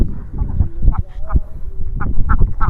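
Ducks out in a flooded rice paddy in Sirajganj, feeding on the standing rice, give a string of short nasal quacks at a moderate distance over an outdoor background murmur.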